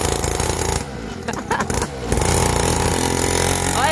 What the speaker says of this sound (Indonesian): Oke, motornya baru mau dites nih sama Bang Aib.